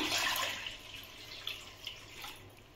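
Water poured from a vessel over pieces of taro in a pot while cooking, a loud gushing pour at the start easing into softer splashing and trickling, with no talk.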